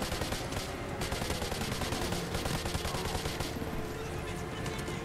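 Rapid automatic gunfire in Modern Warfare 2 Remastered on hard difficulty, a dense continuous barrage of shots with helicopter and battle noise mixed throughout, dense and unbroken for the whole stretch.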